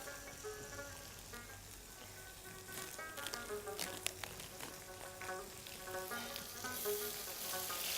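Lamb pieces sizzle and crackle steadily in melted fat, a dense frying hiss with scattered sharper pops throughout, close and fairly loud with no voices.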